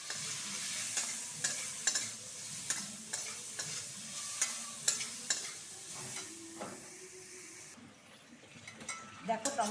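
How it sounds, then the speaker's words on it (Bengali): Salted tomatoes with turmeric stirred in a frying pan, a spoon scraping and clinking repeatedly against the pan over a soft, steady sizzle, close and fairly quiet. "এবার নাড়াচাড়া করি।"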